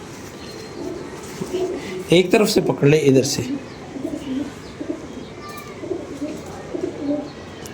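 A pigeon held in the hand gives low, throaty coos that repeat in short bursts, close by, while people talk over and around it.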